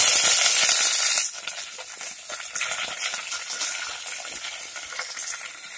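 Green chili and curry leaves hit hot oil while tempering rasam, starting with a loud burst of sizzling, then a steady crackling fry that carries on under stirring, with no talking.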